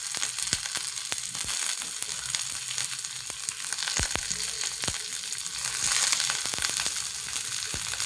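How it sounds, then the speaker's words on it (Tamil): Onion, garlic and mixed vegetables sauteing in oil, a steady close sizzle with scattered sharp crackles and pops and occasional stirring. "நான் கொஞ்சம் இந்த எண்ணெயிலேயே எல்லாத்தையும் வதக்கி கொடுத்துருக்கேன்"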